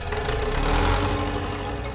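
A big tractor engine runs steadily at a constant throbbing idle-like drone, fairly close and even in level, with no talking.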